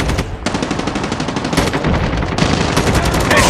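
Rapid automatic gunfire in Call of Duty rattles loud and close in dense bursts, with a brief lull before the shooting resumes and continues to the end.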